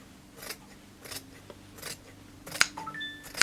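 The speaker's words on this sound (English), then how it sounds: "So I just lay my fabric scissors" Fabric scissors trim along a sewn seam on a shirtwaist, a handful of crisp close snips in a steady rhythm, with a light metallic clink near the end.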